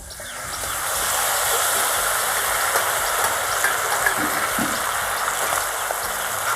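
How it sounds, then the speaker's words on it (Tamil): Chicken pieces hit hot melted butter in a pan and settle into a steady, loud, close sizzle that holds evenly throughout, with no talking. "இப்போ நம்ம தாளித்த சிக்கன் பீசஸை இதில் சேர்த்துக்கிறோம்."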